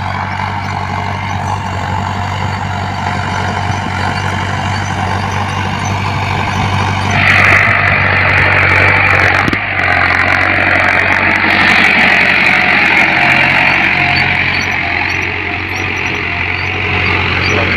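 A Mahindra Arjun 9605 tractor engine runs close and loud in a field, a steady diesel rumble that swells to a higher-revving roar partway through, with a brief dip before settling.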